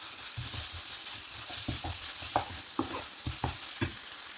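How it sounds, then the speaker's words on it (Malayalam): A spoon scrapes and stirs a fenugreek leaf and potato fry in a pan, with soft rhythmic clacks and scraping strokes over a low, constant sizzle, close up and fairly quiet. "ഷുഗർ ഇട്ട് കൊടുത്തൊന്ന് ഇളക്കി കൊടുക്കാം"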